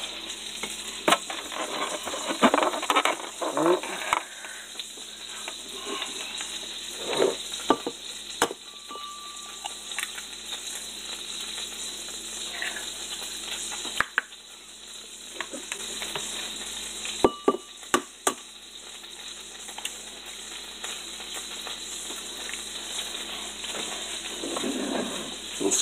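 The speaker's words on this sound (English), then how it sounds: "Scramble them up real good." Eggs frying and being scrambled in a hot pan for a breakfast of grits and sausage, a steady sizzle running throughout with scattered scrapes and taps of a utensil stirring, close and fairly loud.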